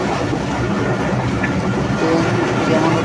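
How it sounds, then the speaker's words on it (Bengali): A moving train rumbles loudly and continuously, heard from on board with friends sitting at the open door, as a steady roar with faint rattling of the carriages. "ট্রেন যেমন করে যাচ্ছে মনে হচ্ছে যে সব কিছু ভেঙে চলে নিয়ে যাচ্ছে"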